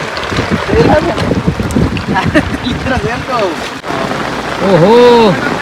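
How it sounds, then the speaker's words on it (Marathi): Rain falls steadily at a riverbank during the first rain of the season, a loud constant hiss under voices of people nearby, with a brief spoken exclamation and a clear whistle-like call near the end. "बघू शकता कसा पाऊस पडतं"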